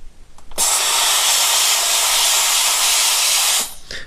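A TrioShine jewelry steamer blasting steam in an orthodontic lab, a loud, steady, close broadband hiss that starts abruptly and holds for about three seconds before cutting off, no voices.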